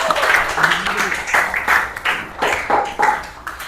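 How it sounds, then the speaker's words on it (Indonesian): Audience applause after a class presentation, a fairly loud burst of clapping lasting several seconds, with some voices mixed in. "Tepuk tangan."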